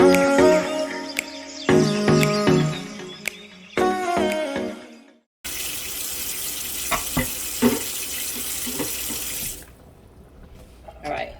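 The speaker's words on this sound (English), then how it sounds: "I'm going to rinse this piece here." A carpet cleaner part is rinsed under a running faucet, a steady hiss of water splashing into a sink for several seconds after some brief clinks and knocks.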